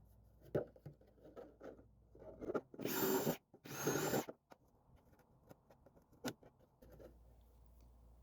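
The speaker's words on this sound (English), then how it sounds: "I'm using a 1/4-inch drill bit here, and I'm making more holes than I probably need" A drill fitted with a 1/4-inch bit bores holes into a gardening container, with two loud bursts of drilling lasting about a second each, close by. Scattered light clicks and handling knocks come before and after.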